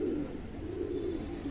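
Fancy show pigeons, a prized Teddy-type champion breed, coo in a low steady murmur, the soft rolling calls continuous and fairly close throughout.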